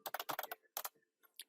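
Someone types on a computer keyboard while entering data into a Microsoft Access form, producing quick, close clusters of keystrokes that break off, then a few more isolated taps, with no talking.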